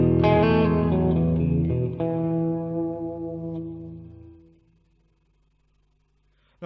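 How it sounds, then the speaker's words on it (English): A Boss Katana guitar amplifier rings out with a strong reverb effect, a played chord followed by a second strum, the tail decaying slowly and fading to near silence after about four seconds. "To explain the true power of the reverb and how long it stays and what it adds to the tone"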